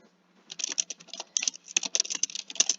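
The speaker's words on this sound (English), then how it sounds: "So you can type your question in here," Rapid typing on a computer keyboard as a question is entered into an online grant portal chat box, with close, crisp key clicks in irregular bursts and no talking.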